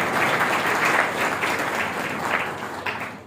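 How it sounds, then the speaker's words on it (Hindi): An audience at a Brahma Kumaris spiritual program in Sector 7, Karnal, Haryana breaks into loud, sustained applause, a dense wash of clapping that holds steady throughout and thins slightly at the end. "please thank you so much and please जोरदार तालियां हो"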